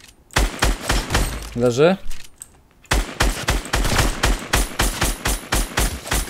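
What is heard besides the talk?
gunfire in Fortnite video game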